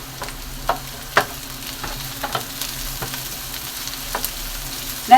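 Onions sautéing in oil with mint and coriander leaves, a close, steady sizzle with a few soft stirring scrapes and taps.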